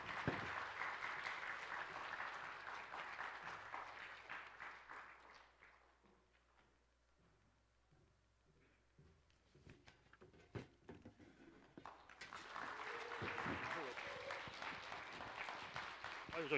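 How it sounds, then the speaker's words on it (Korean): Applause from a church congregation at a Sunday worship service, a steady wash of clapping that fades to a quieter stretch with scattered claps and brief talk, then swells back to full applause. "저 인사드리기 전에도 박수를 쳐주셔서 감사합니다"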